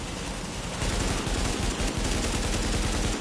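Rapid automatic gunfire in the video game The Division, dense bursts of shots running continuously and loud, with no talk over it.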